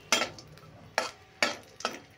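Raisins frying in hot ghee, with four short bursts of sizzling and stirring, each a sharp crackle that fades quickly, close and fairly quiet.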